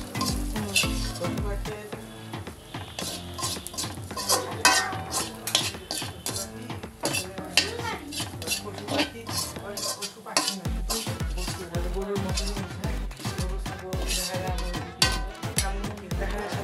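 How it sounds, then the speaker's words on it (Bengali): Fried jackfruit seeds being scooped from a wok into another pot, a busy close run of metal spatula scrapes and clinks on the pan over light sizzling, with no speech. "এবার আমি কড়াই থেকে অন্য পাত্রে তুলে নেব"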